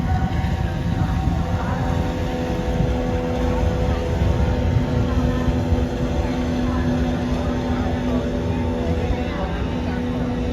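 A motorboat speeds along the Mahanadi river at Cuttack, its engine giving a loud, steady drone with tonal hum, close and continuous, while wind and background noise blend in.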